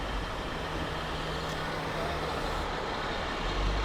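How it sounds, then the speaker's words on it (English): Heavy vehicles rumble through city traffic in Tsim Sha Tsui, Hong Kong, a steady low roar of engines and road noise at moderate distance with no single vehicle standing out. "Fair few fire trucks."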